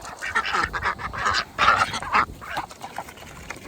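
Ranch ducks quack and honk in a busy, overlapping flock while being fed, close by and fairly loud, with no talking.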